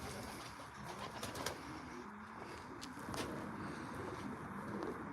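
Racing pigeons in a loft, soft cooing mixed with brief bursts of wing flapping over a steady low rustle, close and moderately quiet, with no talk.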